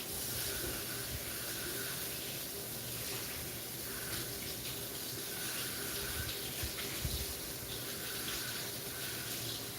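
Tap water runs steadily as freshly harvested herbs are rinsed and scrubbed under the faucet, a continuous close hiss and splash with small shifts as the herbs move through the stream.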